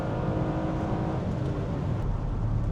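A Honda V6 with a six-speed manual, redlining at 6,800 rpm, hums and revs steadily while driving, a loud continuous engine drone with broad low rumble and no talk.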